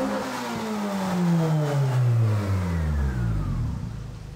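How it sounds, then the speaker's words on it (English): A 1994 Honda Civic with a swapped 1.8 GSR engine roars loudly at close range, its pitch sweeping downward as the revs fall off after a hard high-rpm pull. "did you hear that VTEC kick in?"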